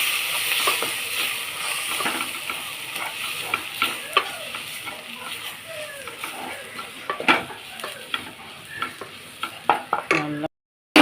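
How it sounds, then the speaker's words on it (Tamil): Spice powders, kuzhambu masala and coriander powder, sauté in a pan for taro root curry, with a steady close sizzle under repeated scraping stirs of a spoon against the pan and no talking. "நல்லா வதக்கணும்."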